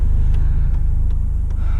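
A Mercedes W201 190E rolls along with a steady, loud low-frequency engine rumble filling the cabin, with faint periodic ticks over the continuous drone.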